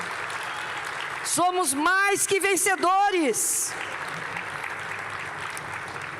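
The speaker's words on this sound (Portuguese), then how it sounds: "Quantos aplaudem o Senhor por causa disso?" A church congregation claps steadily in the background while a preacher's voice speaks loudly over it for a few seconds, then the applause carries on alone as an even, rustling wash.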